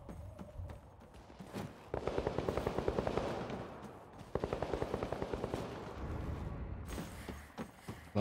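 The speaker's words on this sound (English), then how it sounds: "A lot of shots going off over there." Distant rapid bursts of automatic gunfire crackle in the online video game Vampire: The Masquerade - Bloodhunt, coming in two long rattling volleys with scattered single shots between them.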